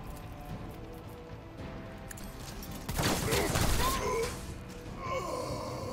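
Gunfire from combat in Warhammer 40k: Rogue Trader, a burst of rapid dense shots swelling loud mid-clip over a low background, then fading back.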